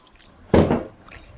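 Water poured into a bowl of flour for namak pare dough, a single short splashing pour lasting about half a second, close and fairly loud with quiet around it.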